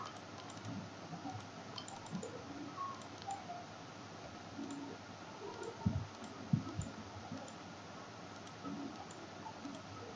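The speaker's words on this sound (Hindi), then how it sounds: "बटन को दबा के यहाँ पे क्लिक कर रही हूँ" A computer mouse button clicks softly a few times during graphic design work, with a couple of sharper clicks near the middle over a quiet room hiss.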